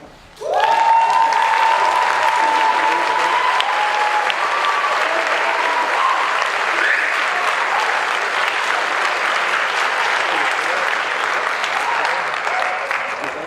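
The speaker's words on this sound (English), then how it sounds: "would you please stand so we can clap for you?" A large concert audience applauds band students at a high school spring concert, a loud, sustained wash of clapping that swells quickly and holds steady, with a faint tone and scattered voices early on.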